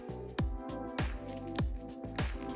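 Pink, glossy, see-through slime made without glue squelches wetly as it is squeezed by hand, giving several close, soft squishing pulses in a steady rhythm with no talking.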